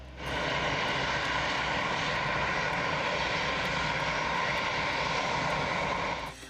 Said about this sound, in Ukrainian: Ранок четверга в аеропорт Анкари прибуває борт номер один.